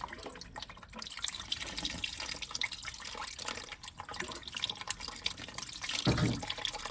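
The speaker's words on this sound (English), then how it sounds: "We've got water coming out there, which is good." Water runs steadily from a tap into a basin, a continuous splashing hiss close by, swelling briefly louder near the end.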